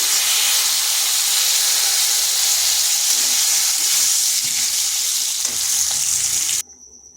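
Cut potatoes drop into hot oil for a vegetarian potato and pointed gourd curry, a loud steady sizzling hiss that cuts off abruptly near the end.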